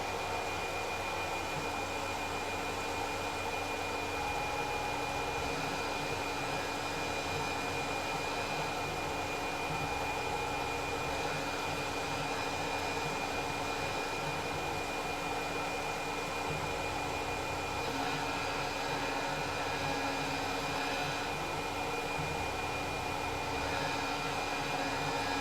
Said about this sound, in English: let's go ahead and run this part of the cycle at full speed